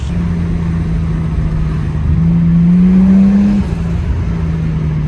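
A turbocharged RB30 engine with a dump pipe drones steadily, then rises in pitch as the car accelerates for a couple of seconds before easing back to a constant hum.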